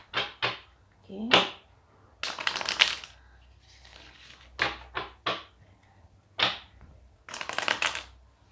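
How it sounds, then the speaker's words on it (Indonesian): Tarot cards being shuffled by hand: several crisp, riffling bursts of shuffling, each a second or so long, separated by quiet pauses, close and fairly loud with no talking over them. "Kita akan shuffle terlebih dahulu."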